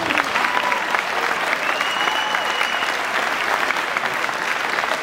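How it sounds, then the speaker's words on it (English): Audience at an award ceremony applauding steadily, a dense wash of clapping that stays even throughout. "Once again, let's give everyone a round of applause."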